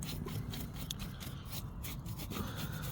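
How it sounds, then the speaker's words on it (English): A paintbrush scrubs gunk out of the roof rail channel on a 2017–2024 Mazda CX-5 in quick, rhythmic, rasping strokes, faint and close, with no voices. "We're using that paintbrush because once this new rail is down, you ain't gonna see all this gunk anyway."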